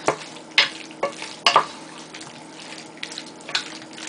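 Washed potatoes stirred in a pot of liquid while pressure-canning meals, giving a few wet scraping and sloshing strokes at a steady, unhurried pace, close and moderately loud with no talking.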